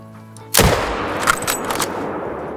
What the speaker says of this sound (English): Let's shoot a lion from 300 meters.